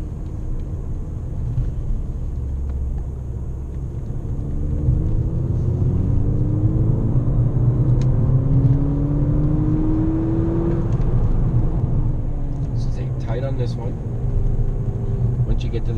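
A Volkswagen GTI driving on a race track, a steady low engine rumble that builds as the car accelerates, with someone talking over it throughout.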